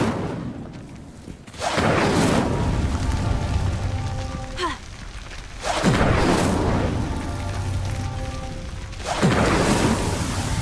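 An Incendio fire spell cast in the video game Hogwarts Legacy, heard as three loud, booming whooshes of flame in succession, each bursting sharply and then rolling off, spaced a few seconds apart.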